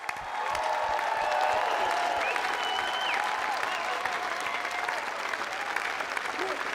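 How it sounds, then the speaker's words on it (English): Audience at a university convocation ceremony applauds for the graduates, a dense, steady wash of clapping that fills the hall from start to finish, loud and continuous with a few faint cheers mixed in. "Clap your hands."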